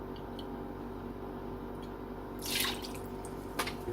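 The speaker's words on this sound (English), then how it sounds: "I'm going to wash my hands." A kitchen tap runs while hands are washed at a sink, starting as a quiet trickle and drip, then swelling into a brief louder splash of running water near the midpoint, with another short splash near the end.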